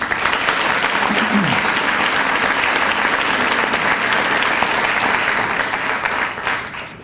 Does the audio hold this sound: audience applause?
yes